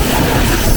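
A moving Nilsagar Express passenger train gives a steady, loud broadband rumble with rolling wheel noise, continuous and unchanging across the short stretch, with no talk.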